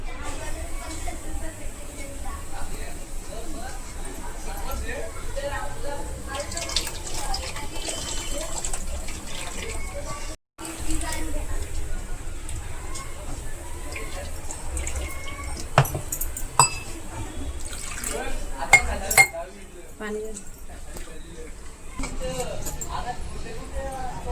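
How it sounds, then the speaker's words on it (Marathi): Water from cooked crabs for a Konkan-style crab curry strained out in a kitchen, a running, splashing pour that continues under someone speaking, with a brief break partway through. "तर चला आता आपण ह्याचा पाणी गाळून घेऊया व्यवस्थित"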